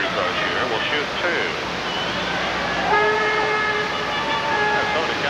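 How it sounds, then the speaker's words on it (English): An air horn blast sounds briefly with steady harmonic tones over a noisy basketball game crowd and commentary. "Minnesota's got an air horn."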